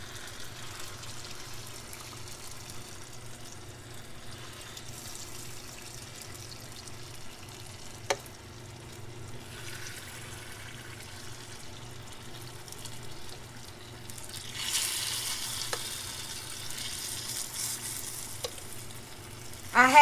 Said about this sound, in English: add this cornmeal into my pot. See how it's cooking? Can you hear it sizzling?